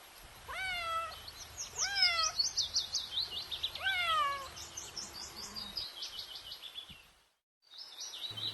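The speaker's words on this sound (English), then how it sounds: "C for cat." A cat meows in a children's alphabet song, three clear rising-falling meows in a row, with chirping birds and light music continuing afterward.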